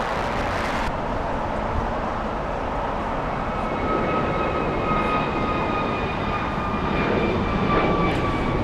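A Lufthansa airliner at LAX passes with a loud, steady jet roar that holds throughout, with no talk over it.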